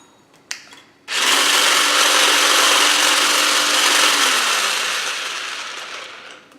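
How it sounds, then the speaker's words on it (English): An electric hand mixer whisks a coconut milk and vanilla muffin batter, a loud, steady buzzing whir that starts sharply and runs for several seconds before slowly easing off, with no voices. "And then I'm just going to whisk it really well."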